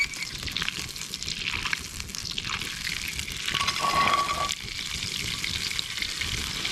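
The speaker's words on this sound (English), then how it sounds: "all I'm doing is melting, maybe not quite a half a cube of just plain old butter" Plain butter melting in a pan, a steady soft sizzle and gentle crackle throughout, brightening a little partway through.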